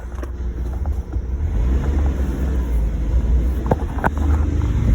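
A Kei van's engine runs smoothly in a low, steady drone heard from inside, with a few faint clicks and knocks over it.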